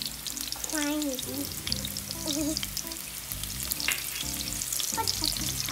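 Onion frying in a hot pan for chicken tinola, a steady sizzle with stirring scrapes, while a voice briefly sings or hums over it.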